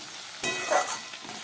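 Okra sautés in a pan with salt and turmeric, making a short burst of close, crackly frying hiss as it is stirred. No voices.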